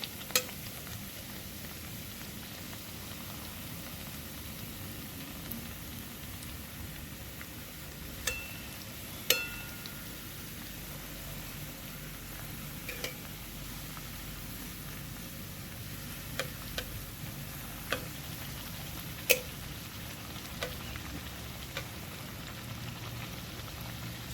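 Semolina snacks puffing up as they deep-fry in oil make a continuous close sizzle, with scattered crisp pops and ticks spread across the stretch and no talk.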